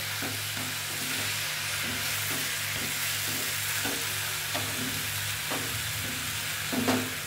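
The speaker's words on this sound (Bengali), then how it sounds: "একটু সেটা ভাজতে সময় নেবে, তাই জন্য মা একটুখানি লিড দিয়ে দেবে" Chochori, a Bengali vegetarian mixed-vegetable dish, frying in a covered pan without water, giving a steady low sizzle with soft periodic stirring scrapes and a faint low hum beneath.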